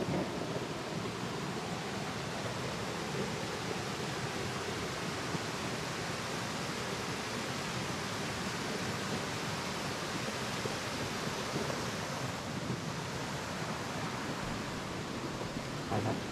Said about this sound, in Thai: ไปถึงนะครับจุดไฮไลท์ของน้ำตกสามลันไอ